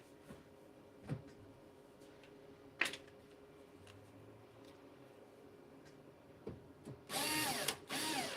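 A power tool tightens screws on a solar hybrid inverter under repair: faint clicks and taps come first, then short, loud whirring bursts near the end.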